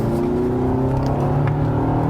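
Non-turbo Ford Maverick or Hyundai Santa Cruz compact pickup accelerating at full throttle, heard from inside as a steady engine drone with rising pitch and a faint whir.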